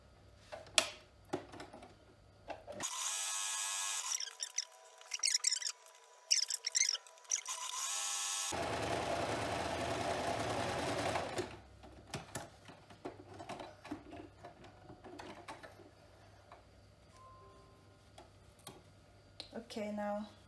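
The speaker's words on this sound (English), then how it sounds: "I'm going to sew this from here to here" A sewing machine stitches a quarter-inch seam around a fabric face mask, a loud steady mechanical whir running for several seconds between stretches of nearby talking.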